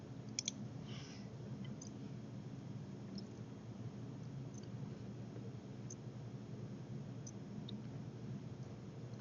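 A computer mouse gives a few sparse, faint clicks at a desk while bridge design software is used, spaced seconds apart over a low steady hum and hiss.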